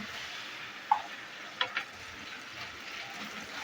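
Ground beef and tomato paste stirred in a pan, with a few sharp scraping clicks over a quiet, low sizzle.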